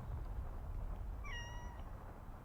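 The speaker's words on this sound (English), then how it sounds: "Bad cat. Bad." A cat meows once in the No More Heroes HD video game, a short rising cry with clear harmonics over steady low background game noise.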